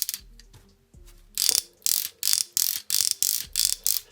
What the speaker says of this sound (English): a very nice ratcheted knee that bends more than 90 degrees